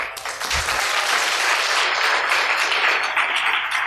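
An audience at a CPR workshop breaks into applause, a dense and sustained clapping that is fairly loud and close, with no other sound standing out.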